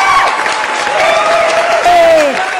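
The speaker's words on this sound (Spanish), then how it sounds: "¡Démosle, mi público querido, un aplauso de bienvenida a la doctora Marci!" A studio audience welcomes a doctor with loud applause and cheering, the clapping mixed with whoops and voices over a continuous bright tone throughout.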